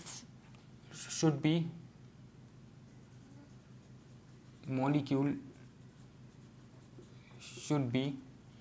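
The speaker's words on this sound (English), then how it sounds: "let me just write it over here only" Marker or chalk writing on a board during a chemistry lesson, three short bursts of squeaky scratching strokes separated by quiet pauses, close and clear.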